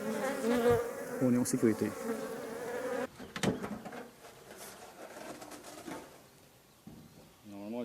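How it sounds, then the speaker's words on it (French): Honey bees swarm and buzz around an opened beehive, a steady droning hum that is loud at first and then fades under close conversation. "Il y en avait beaucoup dans cette ruche."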